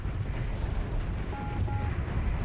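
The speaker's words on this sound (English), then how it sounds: "All of these explosions, pretty majestic, I may say." A continuous low rumbling roar from explosions in the space combat game Starsector, dense and steady throughout with a faint tonal whine briefly cutting through, loud and without talk.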